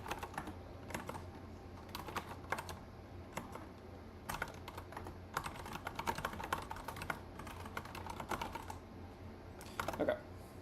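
Irregular bursts of clicky computer keyboard typing run throughout, close and fairly quiet, with short pauses between runs of keystrokes.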